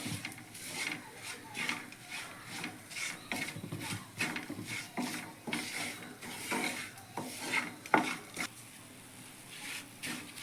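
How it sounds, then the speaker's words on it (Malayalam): A spoon stirs Kashmiri chilli powder in a pan for mango pickle, giving repeated scraping and rubbing strokes in an uneven rhythm, close and moderately loud, with no talk. "നമുക്ക് ഇളക്കി കൊടുക്കാം. പൊടി നന്നായിട്ട് മൂത്ത് വരുന്നിടം വരെ ഒന്ന് ചെറുതായിട്ടൊന്ന് ഇളക്കി നോക്കാം."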